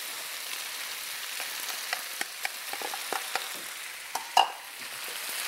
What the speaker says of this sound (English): And at this point, we add 2 cups of finely shredded